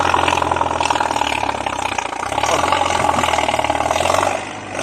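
A Komatsu D50A bulldozer fitted with a modified racing exhaust pipe runs in a rubber plantation, its diesel engine a loud, steady, raspy roar that holds throughout and dips slightly at the end.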